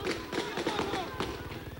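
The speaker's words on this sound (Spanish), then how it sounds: "Hay disparos, cuidado, cuidado, Mario, agachate." During a 1992 prison riot at Caseros prison, rapid pops and thuds, like a string of gunshots, crackle in quick succession while voices talk over them.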